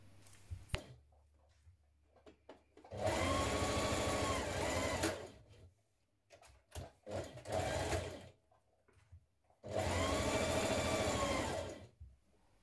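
A home sewing machine stitches a 1.5 centimetre seam on a NewLook 6651 shirt dress in three steady runs of machine whirring, separated by short pauses and fabric handling.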